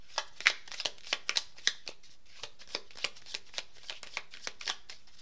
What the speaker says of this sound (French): on va tirer des petites cartes pour finir